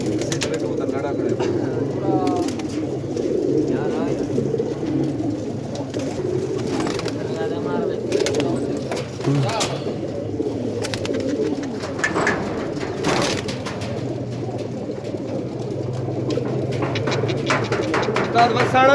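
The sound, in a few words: pigeons cooing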